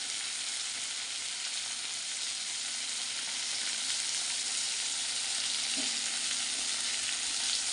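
Hilsa fish heads frying in a pan for a Bengali chorchori, giving a steady, dense sizzle that holds evenly throughout with one faint clink near the end and no talking.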